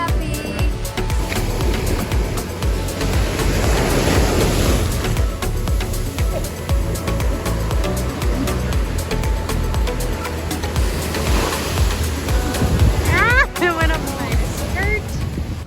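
Ocean waves wash onto a beach near the Miami cruise port, a steady rushing surf under wind noise, with people talking over it.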